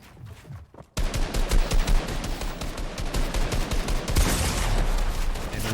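Gunfire in Fortnite sprays a player from multiple angles, with rapid bursts of automatic fire after a brief quiet moment, loud, dense and continuous to the end.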